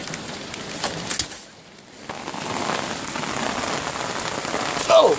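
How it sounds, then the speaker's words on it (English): Steady rain falls outdoors at night, a dense close patter on surfaces that briefly dips then resumes, with birds cooing faintly in the background and no talking. "The rain got me."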